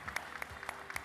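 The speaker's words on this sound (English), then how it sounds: "A round of applause." Brief, sparse applause at a rare-disease conference in Brazil, a handful of claps in a loose rhythm, fairly faint and distant in a large room.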